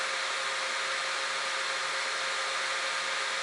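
A Tesla 295 welding inverter runs just after being switched on, giving a steady, even fan-like whir with a faint tonal hum and no pauses, heard alone.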